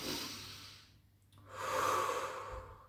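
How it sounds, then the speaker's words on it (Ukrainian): Deep breathing during a yoga-style breathing exercise: one long airy exhale, a brief pause, then a fuller inhale, close and soft with no talking. "Вдихаємо, видихаємо"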